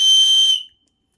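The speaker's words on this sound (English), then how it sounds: "It also has a built-in whistle that is very," Built-in whistle on a compact EDC survival tool gives one loud, piercing shrill blast lasting about half a second, then cuts off into silence.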